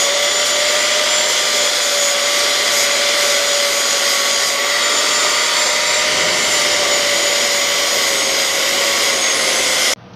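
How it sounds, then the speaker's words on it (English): A flap disc on a grinder cleans up cut metal pieces, played back at four times speed, giving a loud, continuous high-pitched whirring drone with steady tonal whine that cuts off abruptly at the end. "No need to watch me playing with the flap disc."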